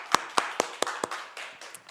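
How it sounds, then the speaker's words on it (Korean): Clapping in a church during a Sunday worship service: a handful of crisp, close hand claps in a quick, even rhythm that softens and fades over two seconds. "우리 하나님께 영광의 박수 올려드릴까요?"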